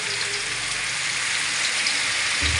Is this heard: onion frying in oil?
yes